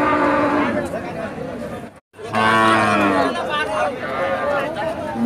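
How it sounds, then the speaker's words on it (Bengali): An Australian-breed dairy cow moos repeatedly at the Aronkola cattle market in Pabna, Bangladesh. The loud, drawn-out calls sit close by over steady crowd chatter and talk, with a brief silent gap midway. "অস্ট্রেলিয়ান জাতের গাভী।"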